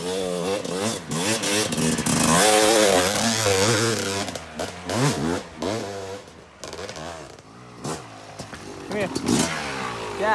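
Yamaha YZ250 two-stroke dirt bike engines revving on a motocross track with berms and step-ups, loud rising and falling whines passing near, with voices talking over the engines.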